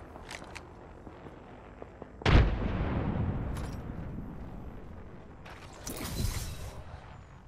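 A frag grenade goes off in a video game shooter, a sudden loud boom with a rumbling tail, followed by quieter crackles and a second, smaller burst a few seconds later.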